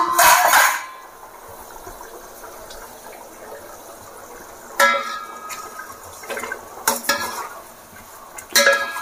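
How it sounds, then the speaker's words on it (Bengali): A lid comes off a pot of potatoes boiling for biryani, with loud metallic clatters at the start and several more clanks later over a quiet background bubbling. "আলুগুলো কতদূর সিদ্ধ হলো দেখে নেবো ঢাকনাটা তুলে।"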